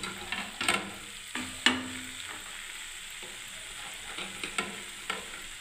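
Soybean curry with curd, peas and potato is stirred in a wok, giving soft scraping and knocking spatula strokes over a low, steady sizzle, with no talking.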